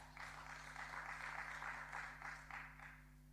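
Applause rises in a legislative House sitting, a fairly faint, even patter of many hands clapping together for a few seconds under a low electrical hum.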